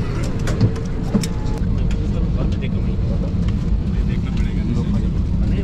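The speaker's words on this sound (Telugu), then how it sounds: "ఇప్పుడు మన ఫ్లైట్ అయితే కదిలింది. అంటే రన్వే మీద" A passenger jet on a Dubai to Hyderabad flight taxis along the runway, heard from inside the cabin as a loud, steady low engine rumble and hum throughout.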